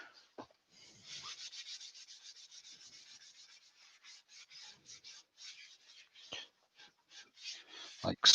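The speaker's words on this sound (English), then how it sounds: "Got a dirty towel. Give it one more wipe." A cloth towel rubs repeatedly over a freshly turned wooden piece, giving a steady series of soft, close scuffing strokes, with a few sharper knocks near the start and end.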